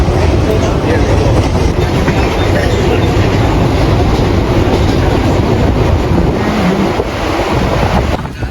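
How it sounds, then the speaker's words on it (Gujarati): A Mumbai local train rumbles along loudly and continuously, with heavy wind rushing past the microphone and a constant rattling roar. "Mumbai local train."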